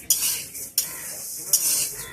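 Urad dal lightly frying in a pan while being stirred: three distinct scraping strokes of the spoon against the pan, each with a burst of bright hiss, over a soft steady sizzle.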